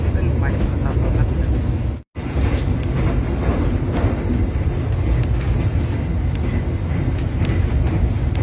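Constant low rumble and rattle of an executive-class carriage on the Blambangan Express train rolling over tracks, loud and close, with a brief dropout, and talk faintly underneath.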